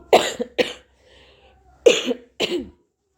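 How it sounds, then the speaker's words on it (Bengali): Four short dry coughs from a woman who still has a lingering cough, in two quick pairs separated by a pause, close and clear in a quiet room. "একটু একটু কাশি এখনও আছে পুরোপুরি এখনও কাশিটা ঠিক হয়নি"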